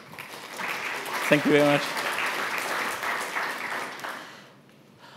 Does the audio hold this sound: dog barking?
no